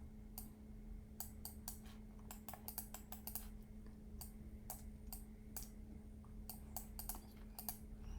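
Computer keyboard and mouse use during a 3D software session: sharp, faint clicks and taps in irregular clusters over a steady low hum, with no talk.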